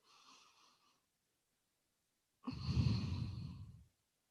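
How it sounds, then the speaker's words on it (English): Slow, deep breathing during a yoga session for the shoulders and neck: a faint breath at the start, a pause of silence, then one long, fuller exhale heard close and alone. "3 more big, slow breaths here."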